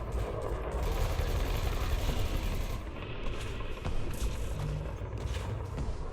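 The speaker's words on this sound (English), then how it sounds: "It sounds like cannons, so it's some kind of kinetic." Kinetic cannon fire hits ship shields in a space video game, a dense, sustained barrage of rapid thudding impacts and crackling bursts that runs almost unbroken throughout.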